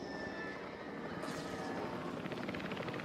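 A helicopter in the Jurassic World Evolution 3 video game flies steadily, with a continuous rotor and engine drone that holds fairly even throughout, no speech over it.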